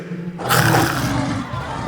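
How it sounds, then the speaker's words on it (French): A sudden loud roaring burst, used as a lion's roar in a story, breaks in after a short quiet start and holds for about a second before easing off. "Le lion se retrouva les quatre pattes au sol et se mit à rugir."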